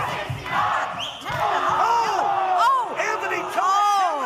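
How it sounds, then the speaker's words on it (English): A large crowd at an OVW professional wrestling event chanting and roaring loudly in an arena, rhythmic shouts rising over a dense wall of cheering voices. "The crowd chanting 169 here."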